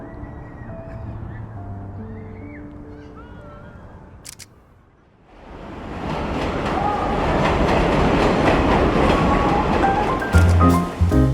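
A New York City train ride to Long Island City, Queens: music fades out, then a loud, continuous rumble of the rail car rises and holds, with rattling and clattering through the rest of the ride.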